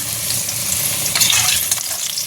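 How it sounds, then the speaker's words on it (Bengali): Potato pieces frying in a pan, a brief, loud, continuous sizzle with a few sharper crackles near the middle, heard up close and alone. "আর এখানে তো আলু ভাজা হচ্ছে এখনো হয়নি"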